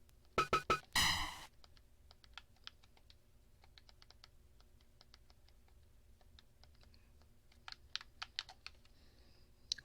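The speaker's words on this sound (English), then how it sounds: "I'm having trouble with the keyboard." A computer keyboard clatters close by: a loud burst of rapid keystrokes at the start, then sparse, quieter individual key taps scattered across the rest of the stretch.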